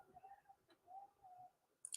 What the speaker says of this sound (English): this is where I was hearing the birds from